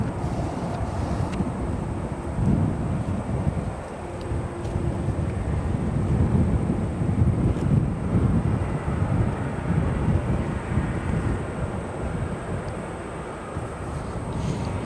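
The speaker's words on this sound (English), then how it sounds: "Getting that aircraft headed to Vienna, Austria, as it makes its left-hand bank" An airliner bound for Vienna climbs out of O'Hare Airport and banks left, its distant engines a broad, steady roar mixed with wind buffeting the microphone.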